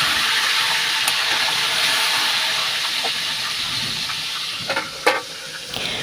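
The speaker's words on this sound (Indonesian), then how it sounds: "ini airnya udah mendidih, jadi mau aku masukin aja sayur bayamnya" Water at a boil in a small cooking pot gives a steady bright hiss, close and continuous, with a few soft clinks and bumps of kitchen activity near the end.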